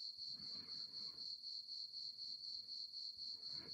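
Cicadas in Provence keep up a steady, loud pulsing buzz that holds alone throughout, with no voices and only faint low rumble beneath.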